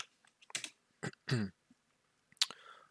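Short bursts of keystrokes on a computer keyboard as a command is entered, a few quick clustered taps separated by pauses, close and fairly quiet.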